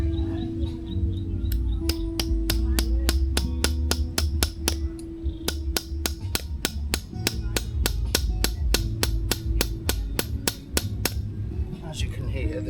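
Hammer blows drive into hard, solid ground at a camp in extreme heat. Around thirty sharp, ringing strikes land in a steady rhythm, close and loud, over a low background rumble.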